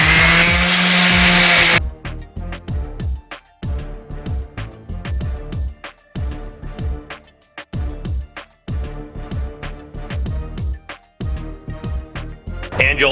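Orbital sander with 60-grit disc working the steel top of a Blackstone griddle, loud close grinding in rapid bursts that start and stop repeatedly, with no talking over it.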